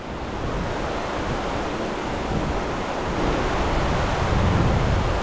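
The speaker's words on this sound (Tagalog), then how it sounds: "Malakas ang agos." Strong sea current and waves rush in a steady, dense wash of surf with wind buffeting the microphone, loud and continuous with no voices.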